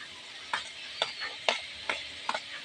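Fried eggplant being added to greens frying in a pan and stirred, with five soft spaced clinks and scrapes of a spatula over a faint sizzle, close and quiet.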